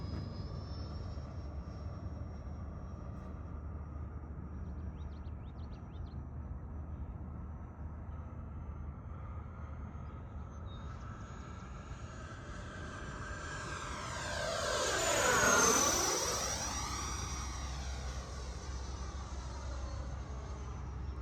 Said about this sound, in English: That fuselage noise from that 90mm really sounds good.